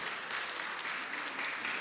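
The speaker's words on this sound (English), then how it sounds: "let's give him a round of applause" Audience at a university ribbon-cutting ceremony applauding Mr. Victor Ekput, a brief, even burst of many hands clapping together, steady and moderately loud.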